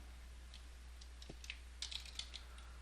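Keys tapped on a computer keyboard while entering orders in Dwarf Fortress, a few scattered soft clicks and one short burst of quick keystrokes, faint and close over a steady low electrical hum.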